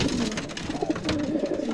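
Racing pigeons in a loft after a 185 km race, cooing in soft repeated warbling calls, close and steady with no talk.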